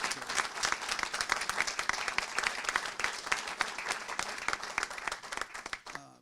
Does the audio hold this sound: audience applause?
yes